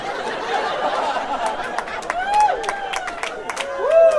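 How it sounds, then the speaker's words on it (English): Audience at a stand-up comedy show bursts into sustained applause with scattered whoops and cheers, a dense, fairly close wash of clapping that swells toward the end. "All that applause is for you."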